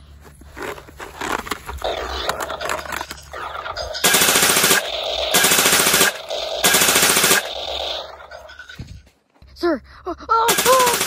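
Soldiers in a winter war battle fire automatic weapons in several loud, sharp bursts of rapid gunfire, broken by pauses; someone briefly shouts between volleys and other voices are heard.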